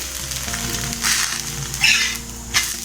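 A Mudakathan keerai (balloon vine leaf) dosa roasts on a hot pan, steady sizzling with a few brief louder crackling bursts as it cooks, no voices.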